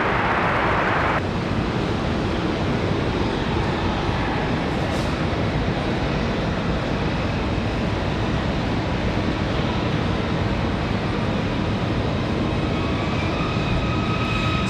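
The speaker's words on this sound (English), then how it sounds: "Smooth arrival for the 737-9." A Delta Boeing 737-9 from Atlanta arrives at Raleigh-Durham International on a windy day, giving a broad, steady jet roar mixed with gusty wind noise that stays loud throughout, with no talk.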